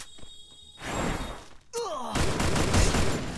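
Gunfire in a video game: a few sharp shots and thuds, a whooshing sweep, then a loud, dense burst of rapid firing.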